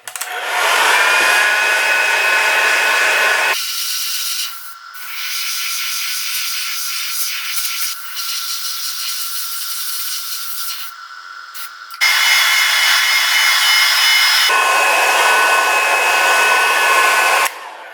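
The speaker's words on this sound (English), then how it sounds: "Now I'm just going to hit it with the hairdryer again" A hair dryer blows loudly and steadily, shifting between settings partway through with a lower, rougher hum before returning to full blast.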